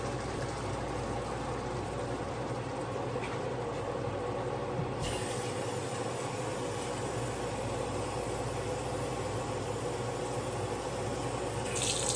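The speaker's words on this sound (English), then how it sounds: "At this point, I'll go ahead and add my water." Steady rushing water pours continuously into a cooking pot at moderate loudness, with a faint low hum beneath and no talking.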